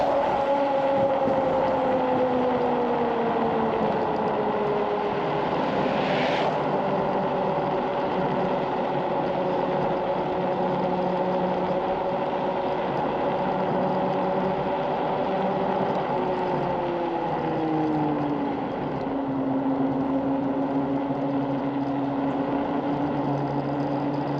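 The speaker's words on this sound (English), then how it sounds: "On this decline in the road, you can really hear the engine rap out." A vehicle engine drones steadily for a long stretch on a downhill road, its pitch slowly sliding and dropping as it revs, with wind and road noise throughout.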